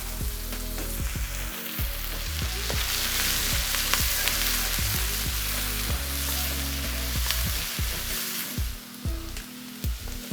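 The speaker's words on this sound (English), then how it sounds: "let's take our onions. About another 3 to 4 minutes to kind of just get those soft and translucent." Onions sizzle steadily in a hot pan while cooking down for special fried rice, a continuous close frying hiss broken by occasional scrapes and stirring knocks.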